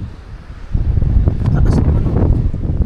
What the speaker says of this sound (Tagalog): Sobrang lakas pa nung hangin.